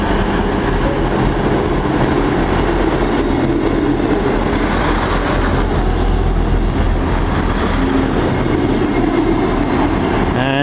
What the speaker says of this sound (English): the East Midlands train is going to Crewe